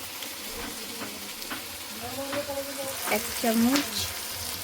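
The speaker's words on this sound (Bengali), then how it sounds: "মশলাটা আমি নেড়ে নেব।" Spices for chicken curry sizzle and get stirred in a pan, a soft crackling hiss with scraping strokes while someone speaks over it.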